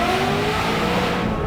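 Maserati Quattroporte engine pulling hard in first gear up to 60, a loud, continuous rising roar with climbing harmonic tones across the whole moment, no voices.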